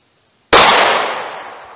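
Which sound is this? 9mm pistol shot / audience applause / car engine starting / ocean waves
9mm pistol shot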